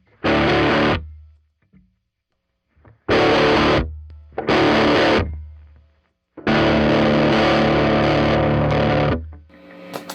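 Electric guitar played through a Peavey Studio Pro 50 1x12 combo amp with boosted gain, thick switch-like tone: four loud, distorted chord bursts separated by silences, the last one long and sustained.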